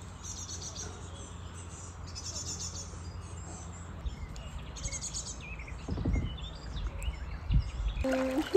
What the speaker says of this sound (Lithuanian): Kažkokie keisti paukščiai